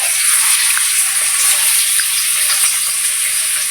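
Sliced onions fry with fennel seeds in a hot kadai, giving a steady, close, bright sizzling hiss that holds evenly throughout with small crackles and no talking.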